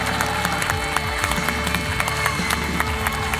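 A studio audience on a children's singing talent show applauds with scattered cheering while stage music plays loudly underneath, individual claps popping out through the sustained backing.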